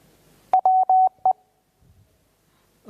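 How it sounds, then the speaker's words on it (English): Amateur radio Morse code CW practice tones: a short run of steady single-pitch beeps, dots and dashes in a quick rhythm, loud and clean over quiet, followed by faint voice murmur. "CW challenge."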